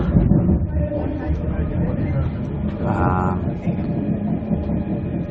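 Spirit of Queensland passenger train running near Townsville, giving a steady loud rumble of rail travel throughout with a brief higher tonal whine midway, while people talk underneath.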